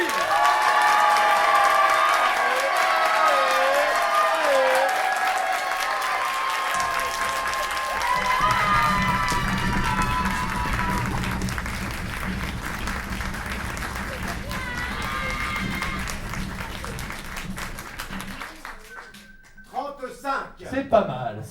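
Audience applauding a performer, sustained dense clapping mixed with cheers and a speaking voice, then thinning out, with a low hum entering midway and scattered claps near the end.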